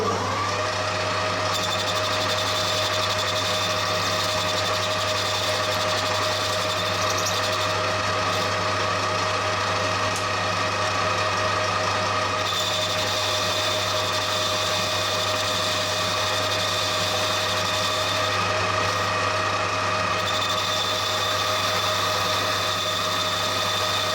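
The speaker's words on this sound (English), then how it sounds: "I'm going to go ahead and just finish machining this and part it off" A metal lathe runs steadily while machining and parting off a steel part, a constant loud motor hum with tonal whine and faint cutting chatter throughout, no voices.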